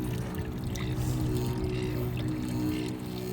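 Reused wash water with detergent in it being poured through a roughly 20-micron filter into a front-loading washing machine, a steady low continuous pour lasting a few seconds.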